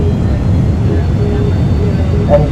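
Jet engine reverse thrust on landing in the X-Plane 11 flight simulator, a loud steady roar of engine noise filling the clip without a break.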